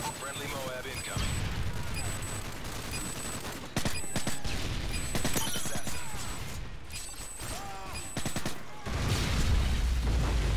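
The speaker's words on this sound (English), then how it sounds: "Friendly Moab incoming." Rapid gunfire and heavy booms from a video game match as a MOAB bomb strike comes in, dense and continuous with sharp bursts, under a constant backdrop of battle noise and some voices.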